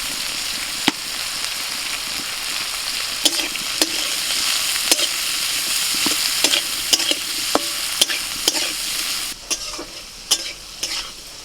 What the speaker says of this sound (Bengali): করলা ভাজা হয়ে গেছে, তুলে নিচ্ছি